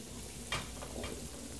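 In-game food sizzles while cooking in the Roblox roleplay game Tha Bronx 2, a steady, even frying hiss over a low hum, broken by a couple of brief brighter clinks, with no talking.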